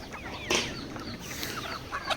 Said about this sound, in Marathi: ही शेंडोरी कोंबडी आहे काल्यामध्ये